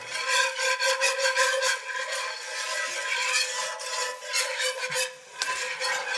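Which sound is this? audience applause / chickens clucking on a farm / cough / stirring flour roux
stirring flour roux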